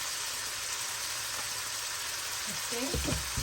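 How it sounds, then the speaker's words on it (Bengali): Ground cumin, coriander and chili powder fry in a pan with a steady, close sizzle, while a person talks briefly near the end. "এখন মশলাটা ভালো করে যখন কষে যাবে তারপর আমি রোবারগুলো দিয়ে দিব"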